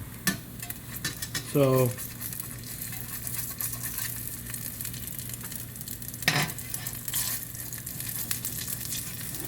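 Salmon patties frying in a pan, a steady close sizzle under the scrape and clink of a utensil, with a brief tonal squeak and a sharper clatter partway through; a voice speaks a single word.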